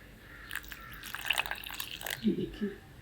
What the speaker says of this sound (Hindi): इसमें मैं पानी डालूँगी